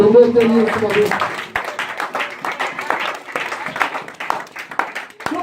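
A church congregation claps during worship, with an energetic, ragged burst of applause that continues under a preacher's French voice and occasional shouts.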